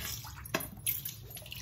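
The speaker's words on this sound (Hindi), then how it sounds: "अभी इसको धो के फिर से ये पानी को मैं इसमें डाल दूंगी" Water splashing and sloshing as a kadhai is rinsed and washed by hand, with a sharp splash followed by softer wet swishes close by and no talking.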